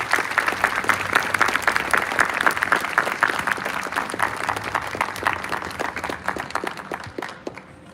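A crowd at a military honors parade applauds an inductee and his family: brisk, dense clapping that stays strong for several seconds, then thins and fades out near the end.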